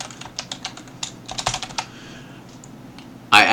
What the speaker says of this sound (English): Now watch as I type some other stuff in here.